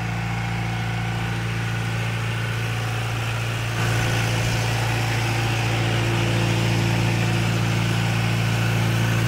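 A John Deere diesel engine drives a deep well pump and generator for crop irrigation, running in a steady, heavy idle-like drone with a constant low rumble throughout and no voices.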